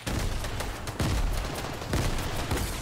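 Three grenades going off in an online shooter arena match land as heavy, booming blasts about a second apart, loud and close, each trailing into noisy debris over a constant background of gunfire.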